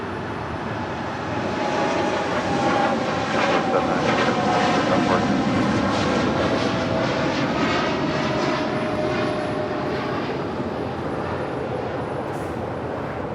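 A cargo Boeing 747 at LAX roars past in a loud, sustained jet engine rush that builds and fades slowly, with voices talking over it.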